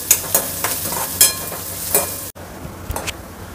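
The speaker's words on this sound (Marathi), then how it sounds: "तसंच कढीपत्ता पण घालूया। त्याला चांगला परतून घेऊया" Onion and curry leaves fry hard in a pan over high heat, a close, bright sizzle broken by several sharp stirring scrapes, cutting off abruptly partway and resuming more quietly.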